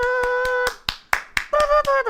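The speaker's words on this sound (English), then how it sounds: "Stopping me from clapping." Several sharp hand claps ring out one after another, loud and close, interrupted by a sustained musical tone and a dog nearby.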